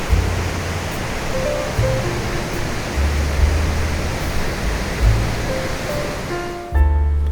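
A roadside stream beside the Kallar to Mankulam road in Munnar, Kerala, rushes with a constant, full hiss of flowing water, loud and close, with a faint low hum underneath.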